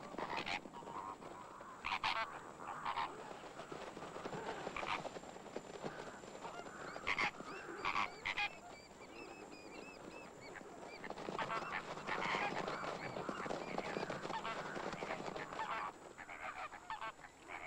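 Egyptian geese honk in a noisy, overlapping clamor as they take off near a waterhole in elephant country, a dense continuous racket of calls and flapping at moderate distance with no pauses.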